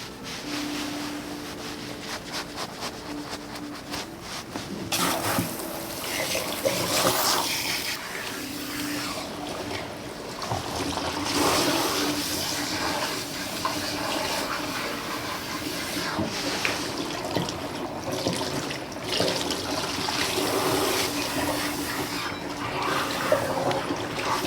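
Running water from a salon shampoo sink rinses a client's hair, a steady broadband rush with shifting splashes as the spray moves around the head, close and fairly loud throughout, with no talking.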